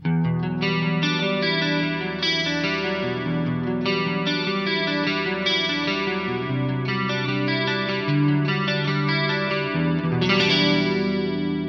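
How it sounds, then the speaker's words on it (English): Electric guitar through a Dimension-style chorus effect matched to a Boss DC2 pedal, with a little distortion, plays steady, shimmering sustained chords and picked notes, continuous and up close for about twelve seconds with no voice. "This is based around the Dimension chorus. If you have my blocks library, this one is based on a match that was done with a real Boss DC2 pedal."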